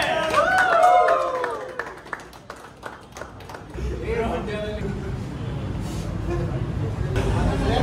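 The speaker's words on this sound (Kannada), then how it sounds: "ಚಪ್ಪಾಳೆ." Guests at a birthday celebration clap and cheer after singing, a dense burst of applause mixed with voices and crowd noise, fading slightly then continuing under chatter.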